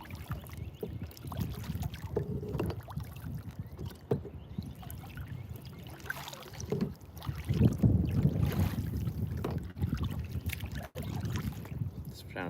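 Steady wind buffets the microphone while kayak fishing on a small backyard pond, a continuous rumbling gust with surges, alongside faint paddle and boat movements.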